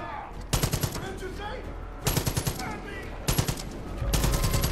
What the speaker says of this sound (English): And so begins the gunfighting.